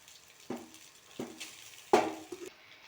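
Cooked rice going into an oiled pan for carrot fried rice: three distinct thuds of a spoon knocking against the pan, the third loudest, over a faint sizzle.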